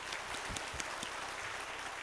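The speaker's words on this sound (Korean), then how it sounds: "우리 감사와 영광을 박수 돌려드립시다." A church congregation applauds during a special Tuesday evening service, a dense, steady wash of clapping heard faintly and at a distance, as if through a room mic.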